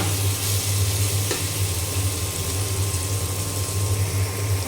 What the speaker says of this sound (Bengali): এখানে যে পটল আর আলু ভাজিটা হচ্ছে